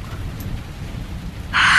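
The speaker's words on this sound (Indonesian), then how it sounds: "berisiknya air hujan dan petir saat itu" Steady low rumbling like distant thunder with rain, then a sudden loud burst of heavy rain hiss near the end.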